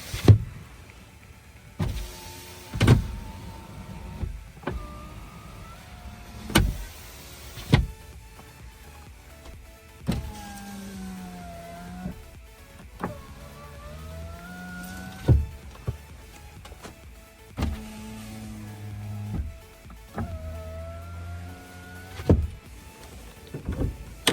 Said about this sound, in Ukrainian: Склопідйомники працюють справно, відкриваються та закриваються без затримок.